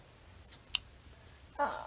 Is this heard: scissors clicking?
yes